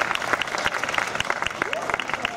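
Audience applause at a Japan festival in Mississauga, a lively burst of clapping from a crowd with a few voices mixed in, close and fairly loud.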